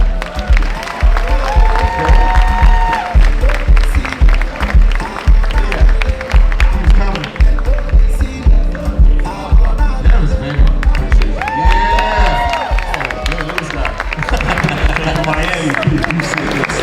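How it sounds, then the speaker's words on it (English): A live conference crowd at SelectCon cheers, whoops and claps as a guest is brought out, loud and dense, with music and an amplified voice mixed in over the noise. "Make some noise for Steve Stout."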